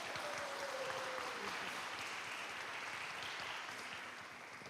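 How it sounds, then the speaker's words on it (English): A workshop audience breaks into dense, continuous applause for a participant named Norlin, holding steady before tapering slightly at the end. "Give Norlin a round of applause."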